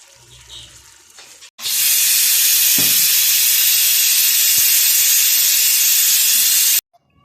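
After a brief quiet moment, a pressure cooker cooking beef releases a loud, harsh hiss of escaping steam close by, holding steadily for about five seconds before cutting off abruptly.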